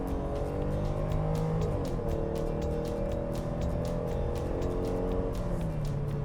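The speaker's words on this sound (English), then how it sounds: "You could hear the engine whining a little bit because it's not the V8" A Dodge Durango engine, not the V8, whines as it accelerates, the tone climbing steadily and holding up close, with a steady road and engine roar under it for the whole stretch.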